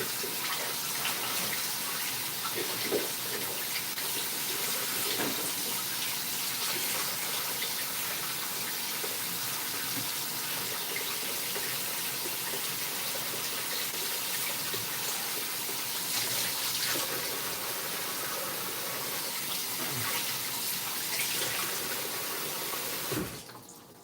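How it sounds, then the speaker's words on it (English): Steady, loud rush of running tap water as oxtail is rinsed under it, continuous and close with faint splashing variations, cutting off abruptly at the end. "we're just rinsing this off real quick"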